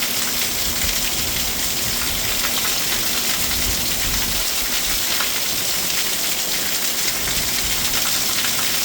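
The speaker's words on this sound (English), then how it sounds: "purifying rain." Steady heavy rain falls during an ongoing rainstorm in Albuquerque, New Mexico, a dense continuous hiss of drops on surfaces that holds at an even level throughout with no voices.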